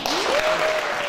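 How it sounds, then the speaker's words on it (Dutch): An audience at a local-currency talk in Tilburg claps warmly for a guest speaker, a brief burst of applause with a rising whistle-like tone running through it. "jullie warm applaus voor Arie Smitskamp van de TAM uit Rotterdam."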